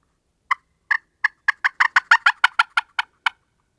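Hen turkey fly-down cackle imitated on a handheld turkey call, about a dozen sharp raspy yelps that start spaced apart then quicken into a rapid run, clear and close with silence around them.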